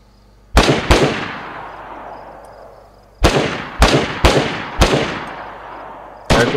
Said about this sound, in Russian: А это уже люди стреляют.